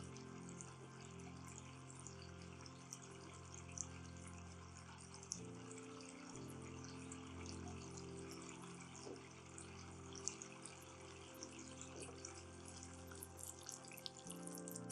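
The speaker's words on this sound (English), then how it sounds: "And the water trickles all the way down." Water trickles steadily down through the soil of a potted variegated Syngonium podophyllum plant, with faint continuous gurgling and small crackles and no voices.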